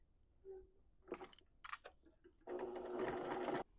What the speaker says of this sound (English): now we're going to sew this at 1/4 of an inch seam allowance